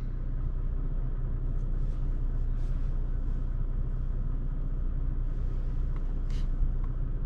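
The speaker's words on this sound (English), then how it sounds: "I swear I heard a truck sound again" A steady, low rumbling roadway drone from a passing truck or similar vehicle on Clinton Road, loud and continuous throughout with faint higher hiss and clicks on top, no talking.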